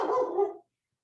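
Dogs barking indoors in a quick burst of overlapping barks, fairly close and loud, cutting off abruptly after about half a second into silence.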